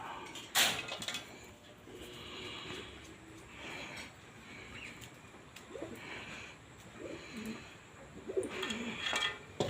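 Soft, low pigeon coos repeat intermittently against a quiet outdoor background, with a brief sharp knock near the start, as pigeons settle on their eggs.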